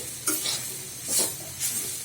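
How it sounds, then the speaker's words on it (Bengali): Drumstick leaves are stirred and fried in a pan, a soft, even sizzle broken by three short scraping stir strokes close by. "হ্যাঁ, এরকম করে ভাজবেন"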